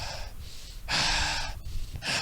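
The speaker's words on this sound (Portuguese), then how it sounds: "a respiração ansiolítica é aquela respiração onde você mais exala do que inspira" A slow breathing exercise for calming anxiety, with a long, airy exhale drawn out over about half a second and then a fresh breath starting. The breath is close and fairly soft, and no one speaks.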